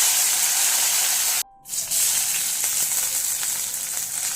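Cumin seeds and curry leaves sizzle in hot oil in a wok, a steady bright hiss that briefly cuts out and then resumes loudly, close up with no talking.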